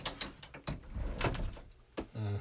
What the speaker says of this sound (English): I have a sliding pocket door so that we can close off the bathroom and the bedroom